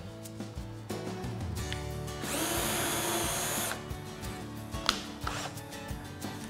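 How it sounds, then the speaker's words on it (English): An electric drill drilling a small pilot hole into a kitchen worktop whirs with a high, steady whine for about a second and a half, surrounded by quieter handling knocks and clicks. "I'm going to make a small drill line just in between them lines."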